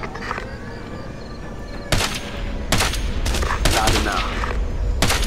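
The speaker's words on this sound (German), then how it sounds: "Da ballern sie rum. Captain, stehen unter Feindbeschuss!" Enemy gunfire in Ghost Recon Advanced Warfighter crackles in several sharp bursts and volleys, loud and near, over steady background battle noise, with a voice speaking briefly.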